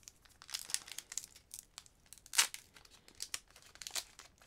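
A Pokémon GO trading card booster pack is torn open: soft, close crinkling and crackling of the foil wrapper with quick tearing bursts, one louder rip near the middle, all fairly quiet with no talking.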